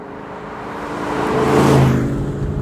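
A Maserati Bora engine pulls in second gear on a road, with a loud rising mechanical roar that swells to a peak and eases slightly, heard from inside the car.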